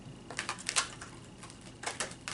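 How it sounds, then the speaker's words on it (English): A brief burst of quick light clicks and flicks as oracle cards are shuffled by hand, close and fairly soft, with no speech. "One more shuffle."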